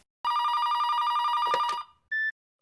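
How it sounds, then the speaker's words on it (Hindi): A telephone bell rings indoors with a loud, steady electronic trill lasting over a second, then stops, followed by a short separate beep, close and clear with no talk. "फोन बज रहा"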